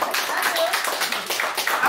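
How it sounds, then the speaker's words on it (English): A few people clap during a cooking podcast conversation, a close, loud run of rapid hand claps with voices talking over and between them. "I think that needs a clap."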